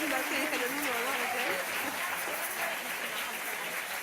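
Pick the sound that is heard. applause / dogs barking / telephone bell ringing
applause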